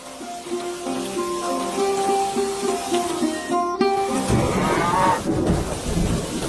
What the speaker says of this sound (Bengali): বৃষ্টি আরো জোরে নামতে পারে।